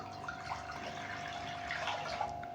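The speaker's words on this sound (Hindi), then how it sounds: "अब इसमें 3 गिलास में नाप के पानी डाल दूँगा।" Three glasses of water are poured into a kadhai on a lit stove, a steady pouring and splashing with a faint constant hum beneath.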